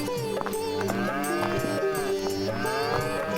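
A pair of bulls lowing in a cartoon story, with deep drawn-out moos that overlap and bend in pitch, loud and close and heard alone without talk.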